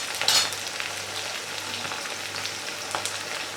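Pieces of ivy gourd fry in hot oil with a steady, gentle sizzle and crackle. A brief stir or scrape comes early on, and no one speaks.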